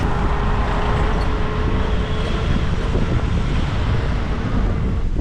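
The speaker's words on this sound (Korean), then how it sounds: "지금 바람이 엄청 많이 불어서 자전거가 못 나가고 있어 지금" Strong wind blows in Dahab, Egypt, buffeting the microphone with a constant loud roar and rumble that stays dense and unbroken throughout, with no voices.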